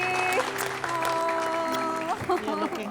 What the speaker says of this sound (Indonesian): Tepuk tangan untuk Nani Sakri